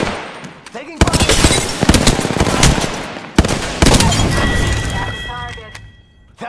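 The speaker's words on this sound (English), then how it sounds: "Taking fire!" Gunfire in the battle royale game Apex Legends, rapid automatic bursts and single cracks in dense volleys over about six seconds, loud and close, with in-game voice chatter around the shots.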